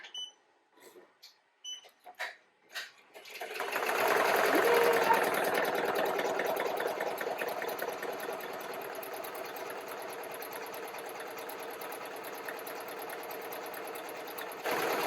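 A few soft taps, then a sewing machine starts up and runs steadily with a fast, even mechanical whir that continues to the end.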